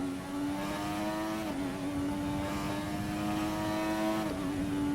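A droning, slightly synthetic engine hum of an old race car in F1 2020, holding a steady pitch with small shifts at constant speed, continuous and fairly loud.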